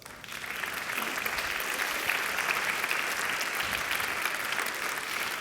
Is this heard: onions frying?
no